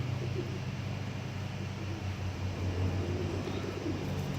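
Domestic pigeons coo softly in a loft, low murmuring calls repeating under a steady outdoor background hum.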